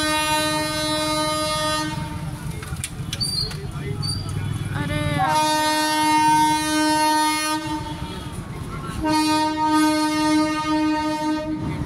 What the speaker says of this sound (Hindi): हॉर्न बजा रही है